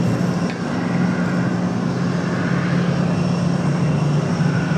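An airliner arriving from Charlotte at Raleigh Durham airport, a continuous loud jet engine roar with a steady low tone, holding even throughout with no voices.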